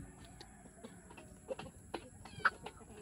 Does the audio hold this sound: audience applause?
no